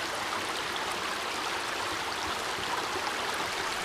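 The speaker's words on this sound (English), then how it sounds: "it's a small little waterfall" A small waterfall in a river, a steady, even rush of falling water close by, filling the whole stretch with no breaks and no voices.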